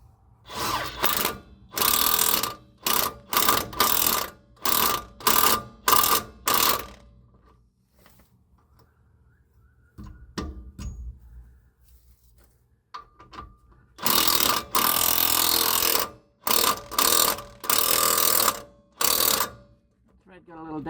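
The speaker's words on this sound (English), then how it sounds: "And then we're going to do up the nut on the bolt on the bottom." Ratchet tightening the nut on the bottom bolt of a Koni 90 RAID shock absorber on a Toyota Prado 120, loud close clicking bursts in quick repeated strokes, two clusters separated by a quieter pause.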